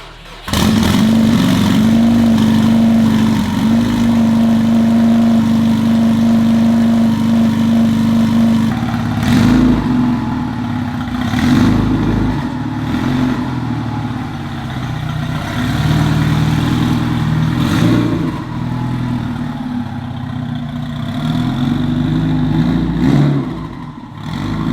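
A twin-turbo Subaru STI engine runs at a loud, steady idle, then rises in several sharp revs with brief roaring bursts that fall back between them, heard close up with no voices.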